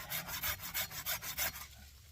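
A folding camp pack saw cuts through a wood log in steady back-and-forth strokes, about eight rasping pulls close up, then the cut finishes and the sawing stops.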